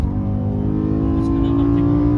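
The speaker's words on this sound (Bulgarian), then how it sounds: "Ето сега ще пробваме да видим как върви. Тръгваме на втора." A BMW M5 E60 pulls away in second gear with a loud, close engine drone whose pitch rises steadily as it accelerates, and someone speaks over it.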